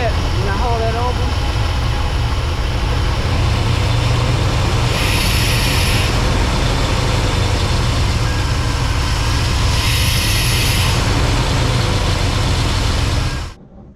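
A Chevy engine idles steadily and close by, its low drone constant throughout before cutting off abruptly at the end, with two brief bursts of higher hiss partway through.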